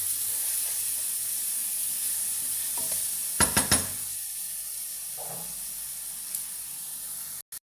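Garlic and ginger fry with okra in a pan, giving a steady close sizzle and hiss throughout, with a few brief stirring scrapes and clinks partway through.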